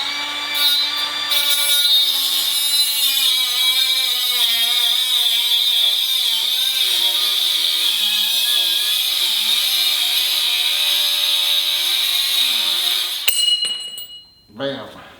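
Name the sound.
Milwaukee M12 3-inch cutoff tool cutting 3/16 inch steel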